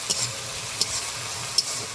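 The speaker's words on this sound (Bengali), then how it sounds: "পেঁয়াজটাও সুন্দর করে ভাজা হয়ে যাবে" Onion and tomato frying in hot oil, heard as a faint, low crackle with three sharp little ticks from a spoon or pan spread across a short moment.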